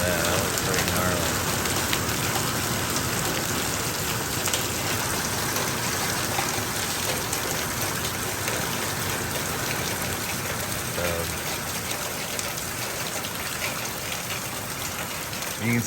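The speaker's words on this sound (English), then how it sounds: "This is what it's like out here in a heavy rain." Heavy rain pours down outdoors beside a barn, a dense, steady hiss of drops drumming on surfaces, loud and continuous throughout.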